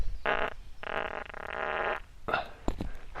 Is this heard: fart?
yes